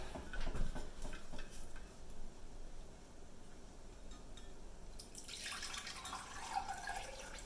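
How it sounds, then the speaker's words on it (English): Homemade low-carb orange liqueur strained after several days of steeping, with steady trickling and dripping liquid, light clinks, and a brighter, louder splashing pour toward the end; no talking. "start to strain this"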